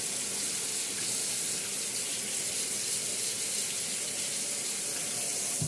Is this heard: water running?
yes